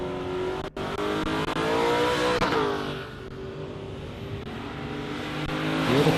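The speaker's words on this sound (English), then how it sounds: "the boosted LS wasn't that happy to leave the line when it was ready, but Michael Shaw got it." A boosted LS-powered drag race car at Warwick Dragway roars as it launches off the line, its loud engine revving in rising and falling sweeps, close and continuous, with a fresh climb in pitch near the end.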